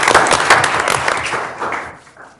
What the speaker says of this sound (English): That's another round, if they're still there, of applause.